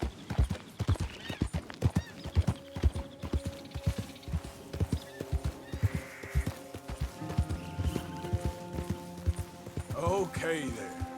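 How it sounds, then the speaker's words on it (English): Horses gallop in the video game Red Dead Redemption 2, rhythmic hoofbeats clopping steadily up close with occasional whinnies, while a person talks over the sound. "So are these wild horses?"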